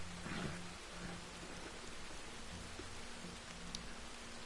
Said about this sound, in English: It's raining, and it's dusty.